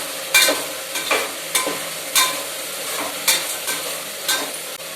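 Masala spice mix for rajma stirred and fried in a pan: a continuous sizzle broken by regular scraping strokes of a spoon, roughly one every half second, close and fairly loud.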